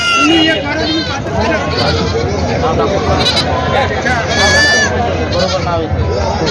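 Goats bleat repeatedly and loudly, many animals at once, at the Vasmat goat market, over a busy crowd of people talking in the background.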